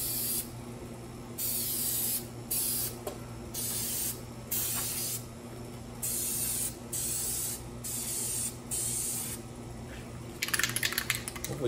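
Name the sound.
spraying Plasti Dip coating onto a motorcycle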